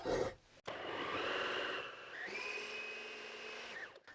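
A stand mixer runs steadily while mixing carrot cake batter with sugar and French butter, giving a loud, continuous motor whir that shifts pitch partway through, then winds down at the end after a brief click at the start.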